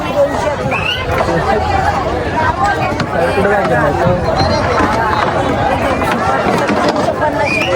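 Morning crowd babble at the Harnai harbour fish market in Dapoli: many voices overlap in a dense, continuous hubbub of bargaining and chatter, with a few voices standing out close by.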